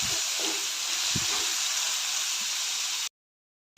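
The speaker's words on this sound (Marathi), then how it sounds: "आणि काजू पण यामध्येच मी परतून घेते सर्व चांगलं ट्रान्सपरंट होईपर्यंत परतून घ्यायचं आहे" Onion, chilli and cashews sauté in a pan for palak paneer, a steady loud sizzling hiss with faint stirring scrapes, ending in a sudden cut to silence.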